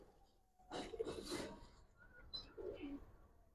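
Pigeons in a loft give faint, quiet coos and a few soft chirps in short bursts, close but low in level. Nobody speaks.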